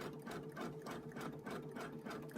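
A Brother Luminaire XP1 sewing machine running a basting stitch, a rapid, regular mechanical chatter with a steady pulsing rhythm, close and clear, with no talking.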